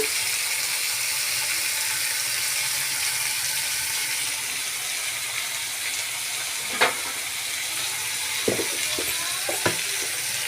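Tomato pieces with a little salt frying in a pan: a steady, fairly loud sizzle runs throughout, broken by a few short clinks of a utensil near the end.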